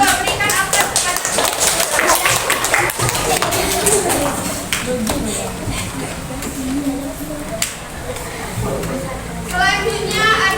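A classroom of students breaks into a burst of clapping and tapping that is busiest in the first few seconds and then thins out. A teacher and children talk around it.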